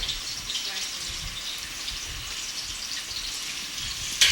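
Diced onions sizzle in a pot on the stove while beef jollof rice is cooked in Ghana, a steady, fine crackling hiss continuing alone for several seconds and ending with a brief louder clatter.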